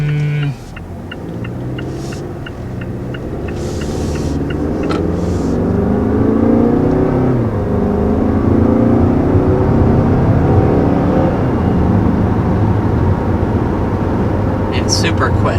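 A 2019 Mazda 6 with a 2.5-liter turbocharged four-cylinder accelerates hard, its engine drone rising and holding loud and steady from inside the cabin, with a few brief clicks early on.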